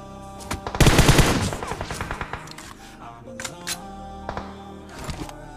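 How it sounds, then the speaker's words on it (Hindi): Gunfire in PUBG Mobile: rapid automatic bursts with a loud cluster early, then scattered single and short shots continuing at a moderate level. "यहाँ पे वो अभी भी फायर ही कर रहा होता है"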